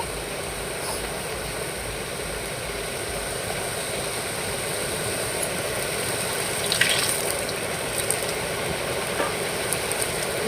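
Puris fry in hot oil, making a steady, dense sizzling hiss that runs close and unbroken throughout, with a few faint crackles near the end.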